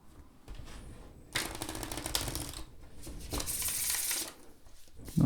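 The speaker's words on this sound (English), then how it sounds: "let me just show you how they beautifully shuffle together with the Northern Animal" Two tarot decks, a main deck and a Northern Animal set, riffle-shuffled together by hand, giving bursts of papery card flutter and slaps that come and go in a few rounds, close and fairly loud.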